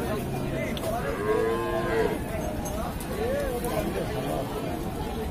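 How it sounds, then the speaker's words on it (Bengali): Cow at a traditional rural cattle market selling improved-breed dairy cows and calves, with low lowing calls amid a steady hubbub of crowd chatter and speech close by. "এই যে দর্শক গাভী এটি"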